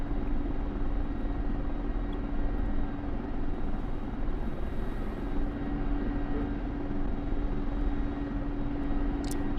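Steady, droning engine and rotor hum of an Mi-24P helicopter in a flight simulator, a continuous mid-loud mechanical roar with a constant tone and no speech.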